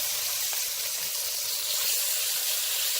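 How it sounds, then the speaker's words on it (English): Chicken livers fry in a Dutch oven over a camp fire, giving a steady, bright, hissing sizzle with faint crackles that stays constant and fairly loud throughout, with no voices. "So you can see the sizzle here going on."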